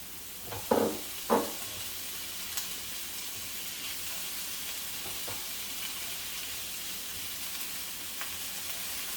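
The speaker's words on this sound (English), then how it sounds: "we'll just lightly fry that just for a few minutes until it's softened a little" Softened vegetables for a meatloaf fry lightly in a pan, a steady gentle sizzle throughout with two louder stirring knocks near the start and occasional faint scrapes.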